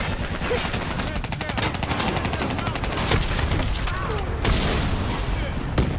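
Heavy automatic gunfire and explosions in a Call of Duty: Black Ops III firefight as an armored APC is brought down, loud and continuous with mechanical clatter and a few deeper booms.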